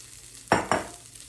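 Long-stemmed rapini is tossed in a hot pan, giving two quick close scraping, sizzling bursts a moment apart over a quiet background.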